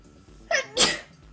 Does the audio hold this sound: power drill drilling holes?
no